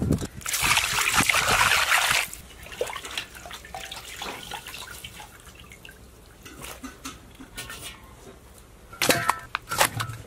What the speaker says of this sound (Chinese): 把片好的鱼再用水洗一遍。